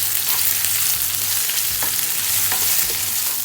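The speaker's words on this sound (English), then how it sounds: "Chilli paste, saute again." Red chilli paste sautés in a hot pan for chilli chicken, with a steady, loud sizzle and frying crackle throughout and faint stirring scrapes, close up and with no speech.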